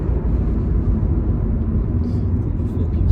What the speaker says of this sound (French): camion est lourd, wesh. On a du mal à accélérer.